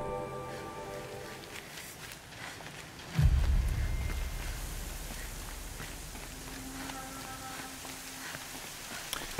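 Rain falling in the video game Horizon Zero Dawn: a soft hiss of drops that swells suddenly around three seconds into a denser, louder patter, then settles into a steady, fairly quiet downpour with faint tonal game sounds.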